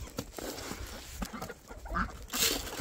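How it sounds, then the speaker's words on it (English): Turkeys on a homestead gobble and cluck in scattered bursts amid outdoor rustling and shuffling, fairly close, with a sharper call near the end. "Them turkeys take over a little bit."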